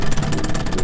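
A two-stroke outboard boat engine, on a leaky boat patched with Flex Seal, idles with a rough, steady mid-pitched chug, loud and close, throughout the brief moment.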